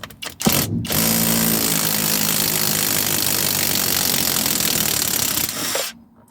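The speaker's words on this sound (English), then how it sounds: "you can just blat it off with an impact driver, which is what we're going to do here" A power impact driver spins a 19mm socket on the rear shock absorber bolt of a Volvo, a loud steady mechanical whir holding for about five seconds after a brief start and then stopping.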